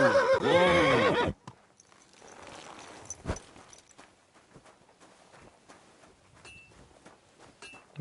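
A horse in Kingdom Come: Deliverance 2 gives one loud, close whinny with a rising and falling pitch, then a quiet stretch follows with faint hoof and movement noises.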